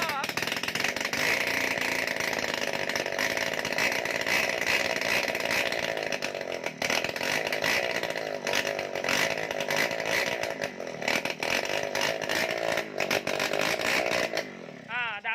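A two-stroke motorbike engine runs with no exhaust pipe fitted, a loud, raw, buzzing rasp sustained close by for most of the stretch before cutting off near the end, with speech mixed in.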